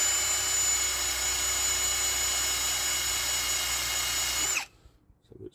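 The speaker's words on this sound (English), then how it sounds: "I'm just going to get my wire brush and get in here on this lip because this is where it sticks." A steady, loud, high whirring grind from a wire brush scrubbing rust off the lip of a Mazda MX5 ND front brake hub runs for over four seconds and then stops abruptly, leaving quiet room noise with a faint knock.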